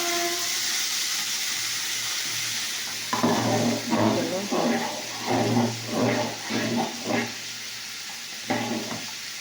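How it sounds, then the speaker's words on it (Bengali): Khichuri sizzles steadily in a pan while a spoon scrapes and stirs it in a rhythmic series of strokes. "নেড়ে দেবো। একটু ভাজা হোক"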